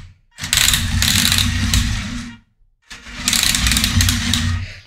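The motor of a model steam locomotive, the Dampflok 99.72, runs in two loud bursts with a gritty, crackling grind from its gear mechanism, separated by a short pause.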